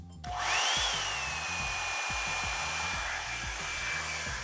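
Revlon One Step hair dryer brush switching on and running on its low setting while blow-drying natural hair, a steady, close, loud whirring roar with a faint high motor whine, and no voice.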